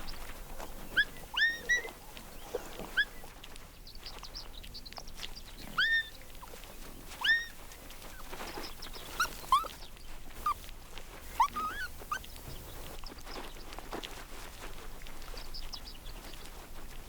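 Three jackal pups at their den give thin, high whimpers and squeaks in scattered bursts, some overlapping, over faint outdoor background with no talking.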